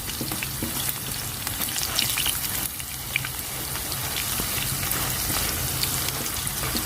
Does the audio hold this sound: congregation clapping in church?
no